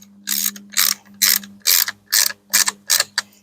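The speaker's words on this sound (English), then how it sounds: "So I'm going to take this little ratchet, and I'm going to have my hand all the way up on it" A small ratchet clicks in short, evenly spaced bursts while snugging a carburetor bolt on a Husqvarna trimmer, about eight crisp, close ratcheting strokes over a faint steady hum.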